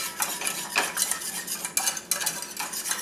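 A whisk scrapes and clatters rhythmically against a pan while mixing hot wing sauce, quick repeated metallic strokes at close range with no talking.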